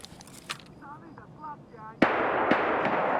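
A flashbang detonates during a video game raid, a sudden loud burst followed by a sustained bright ringing hiss, after some brief chirpy sounds and a voice talking.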